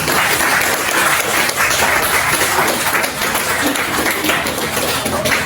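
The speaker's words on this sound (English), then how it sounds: "can you give yourself a round of applause?" A senior high school audience applauds steadily throughout a storytelling event, dense clapping filling the room without a break.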